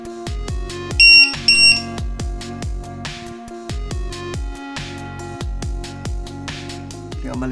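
A battery voltage checker for drone and RC batteries sounds its low-voltage alarm, repeated high piercing beeps in a quick steady rhythm alongside a louder electronic tone, close and loud throughout, with no talk.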